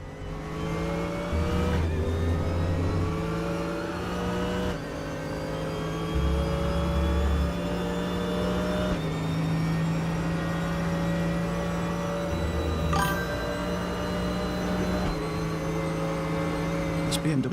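BMW race car engine lapping Imola in the RaceRoom sim, a loud sustained drone that climbs in pitch through each gear and drops sharply at each upshift, repeated several times with no break.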